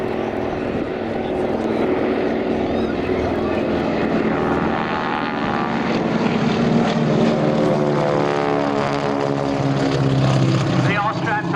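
Propeller aerobatic planes fly in formation at Shoreham Airshow, giving a loud, continuous engine drone that shifts in pitch as they pass, with a commentator talking over it.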